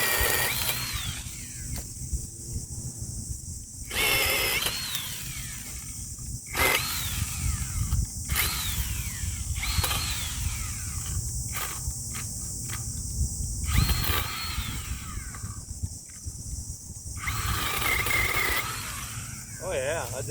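A battery-powered Bauer 20V 5Ah lithium-ion saw cuts tree branches outdoors in repeated close, loud bursts of whining motor with short pauses between cuts, over a steady background rumble.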